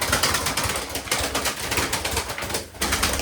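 Pigeons coo softly amid a dense, steady background of noise and a low engine-like rumble, with no clear pauses.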